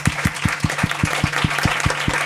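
A live audience at a Christmas special stream greets an interview guest with applause, and a strong rhythmic clap beats out an even pulse over the softer crowd clapping.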